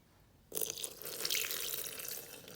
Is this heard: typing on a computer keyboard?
no